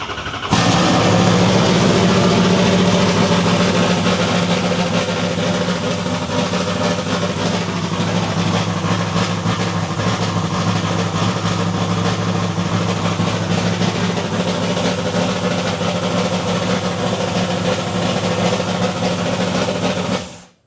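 A freshly rebuilt drift car V8 with a solid roller cam fires up for the first time and settles into a loud, steady, lumpy idle with hiss, close by and alone.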